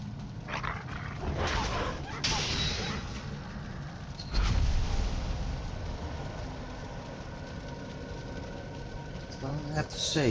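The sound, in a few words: tamed wolves (dogs) barking in video game Valheim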